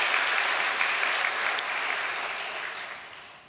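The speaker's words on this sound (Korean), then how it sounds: "우리 일본 형제들을 위해서 다시 한번 격려의 박수를 보내 올리십시다" A church congregation gives a sustained burst of applause, dense and loud at first and then slowly fading toward the end.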